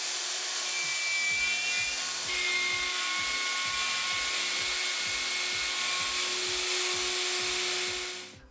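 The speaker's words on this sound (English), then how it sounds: "I route out every slot with the router, freehand." Router cutting slots freehand in wooden pieces: a steady high whine with a low rhythmic thumping pattern runs for about eight seconds, then cuts off at the end.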